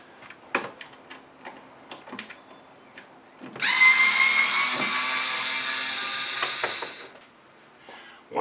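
A power drill backs screws out of the divider inside a wine cooler, whirring steadily for several seconds at close range after a run of light clicks and taps, then stopping abruptly.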